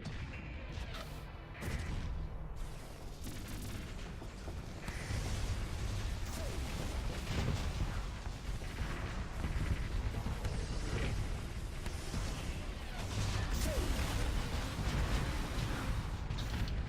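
Torpedoes and other weapons explode in a space battle in the game Starsector, giving a fairly quiet, continuous rumble of booms and crashes with a few sharp bursts and no voices.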